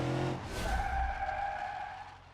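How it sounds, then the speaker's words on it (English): A car in BeamNG.drive spins out on a racing lap, a sustained tire squeal rising and wavering over engine rumble, loud and close before slowly fading. "And I spun out"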